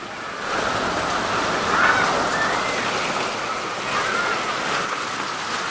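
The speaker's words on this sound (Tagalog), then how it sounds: "Grabing ulan, nabaha." A dense, roaring wash of falling rain fills the air, steady and loud, swelling slightly at moments.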